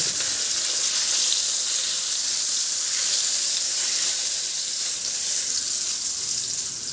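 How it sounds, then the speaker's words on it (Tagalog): Garlic sizzles in hot oil in a frying pan (kawali), a loud, continuous bright crackle from start to end with no talking. "Sa kawali, magpainit na ako ng mantika. Igisa ko na rin yung bawang."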